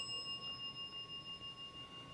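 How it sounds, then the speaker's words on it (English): A ghost-hunting dead bell rings in a haunted hotel, giving a faint, sustained metallic tone with steady pulsing shimmer, heard distant and alone against quiet room hiss. "that's my dead bell way the hell over there."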